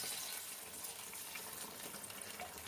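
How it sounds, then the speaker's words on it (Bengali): Hot water poured into a cooking pan of chicken makhni, a faint steady rushing splash of liquid that runs without a break throughout. "গরম জল দিয়ে"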